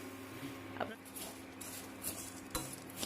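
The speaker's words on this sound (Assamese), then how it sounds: "এতিয়া মই চেনিখিনি ভালদৰে ভাজি ল'ম।" Quiet scraping and clinking of a utensil stirring sugar frying in a hot wok, with faint sizzling and a few sharper metallic knocks.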